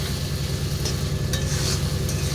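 Garam masala being stirred into a taro flower curry frying in a pan, with a steady low sizzle and soft scraping of the spoon, close and continuous, no talking.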